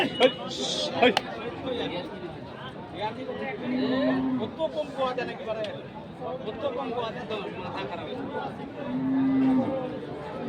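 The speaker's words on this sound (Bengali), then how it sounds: "এটা গরু হ্যাঁ" Cattle low at a busy rural cattle market where large bulls are bought and sold, a few deep moos rising over constant chatter and bargaining voices of the crowd.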